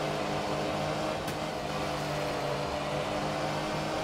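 Rally car engine droning steadily in the game Art of Rally, a constant mid-pitched hum with a brief faint whoosh partway through as the handbrake turn is taken, with no one talking.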